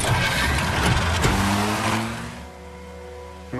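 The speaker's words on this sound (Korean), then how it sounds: "롭은 가까스로 살아남아 벽을 뚫고 자동차를 탑니다." A car drives off in a science-fiction action film, its engine giving a loud, sustained roar that eases and fades after about two seconds, ending with a brief thump.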